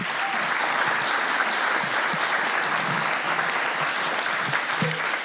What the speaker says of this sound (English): Another round of applause for Don.